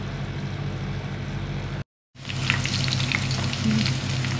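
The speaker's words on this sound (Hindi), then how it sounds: "ये देखिए मैं प्याज फ्राई कर रही हूँ इसके ऊपर सजार डालने के लिए" Onions frying in a pan for a nihari garnish give a steady, close hiss of sizzling oil that drops out briefly midway, then returns just as strong.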